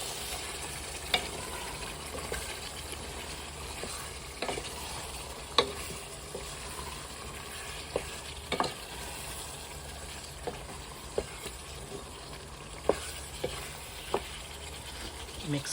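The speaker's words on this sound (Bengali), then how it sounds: "তারপর আমি ভালোভাবে মিক্স করে নিচ্ছি।" Beef curry with potatoes is stirred in a frying pan, a soft steady sizzle broken by scattered sharp scrapes and taps of the spoon against the pan, quiet and close.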